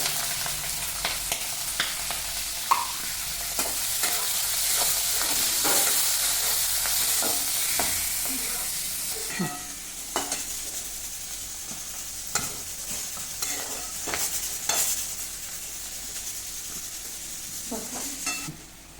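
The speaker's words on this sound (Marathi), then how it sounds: "तेल चांगलं गरम झाले तर आता याच्यामध्ये मी मोहरी जिरं कढीपत्ता मिरची आणि कांदा घालून घेते" Onion, mustard seeds, cumin, curry leaves and green chili frying in hot oil for a bitter gourd dish, a steady loud sizzle broken by scattered stirring scrapes and clicks, with no voices.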